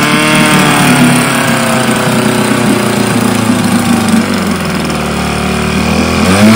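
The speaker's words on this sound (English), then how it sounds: "So let's run this motor right now and make sure everything is running." A small engine runs steadily at a loud, close idle before its carburetor is swapped, a continuous buzzing drone with a slight dip in speed and a brief rise at the end.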